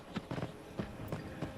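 Soft, rhythmic hoofbeats of a horse walking along in Skyrim VR, several clops in an even gait, fairly quiet with no speech over them.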